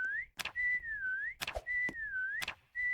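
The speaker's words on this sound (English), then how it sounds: "Second whistle." A long, wavering tonal whistle sounds in the video game Meccha Chameleon, rising and falling in repeated phrases and broken by loud, sharp broadband bursts.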